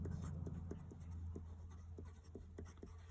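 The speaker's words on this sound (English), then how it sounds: "let me just draw in my diameter" A pen scratches across paper while a diameter line is drawn through a circle diagram, with soft repeated strokes over a low steady hum and no talk.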